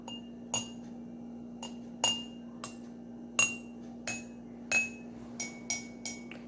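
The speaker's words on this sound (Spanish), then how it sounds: "lo que vamos a hacer es ver si los sonidos en cada vasito son los mismos" Small glasses are tapped one after another to compare their tones, producing about a dozen crisp, bright clinks spaced irregularly over a steady low hum, each ringing briefly before fading, with no voices.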